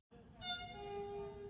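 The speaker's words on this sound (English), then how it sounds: "There's also a train nowadays, the Tren Maya." A Tren Maya train in Yucatan sounds its horn, a loud sustained multi-tone blast that starts abruptly and holds, heard alone over a low rumble of the passing train.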